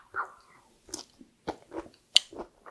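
Assorted raw vegetables dipped in sauce are bitten and chewed in a handful of crisp, close crunches separated by short quiet gaps, with no talking.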